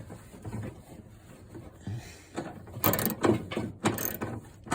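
A ratchet loosens a bolt on a 1978 GMC truck, giving bursts of rapid clicking, close and moderately loud, with quieter clicks and handling noise before them.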